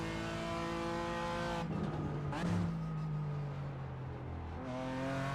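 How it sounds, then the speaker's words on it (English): A BMW race car lapping the Zolder circuit in the iRacing simulator, its engine note loud and continuous, rising through gears, dropping sharply under braking for a corner, then building again. "Give you a good listen to the BMW."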